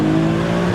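A 502bhp VW Golf with a boosted V6 and 4Motion drive holds a loud, steady, harmonic-rich engine drone, heard close from inside the car with no voices.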